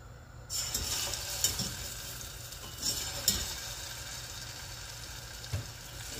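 Tilapia fries in very hot oil, a dense crackling sizzle that starts abruptly and carries on steadily with a few louder spits and pops, close up and alone without speech.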